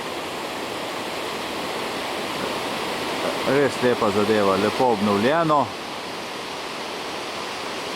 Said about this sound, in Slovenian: Izkoriščajo ta naravni padec preko lehnjaka.